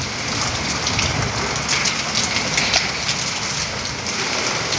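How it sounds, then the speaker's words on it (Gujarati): Heavy rain pours steadily on a village, driven by wind, in a dense, loud hiss of drops with a few sharper spatters and no voices. "અમારા ગામની અંદર વરસાદ હાલ વરસી રહ્યો છે"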